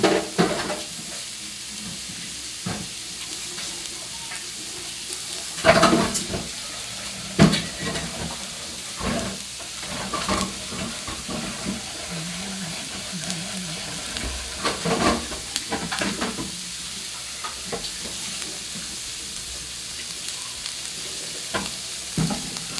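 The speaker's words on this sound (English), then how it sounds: "Finally, it's starting to sizzle." Leftovers fry and sizzle steadily in a pan while being stirred, with a continuous hiss broken by scraping stirs and occasional louder clatters, close and moderately loud, with no talking.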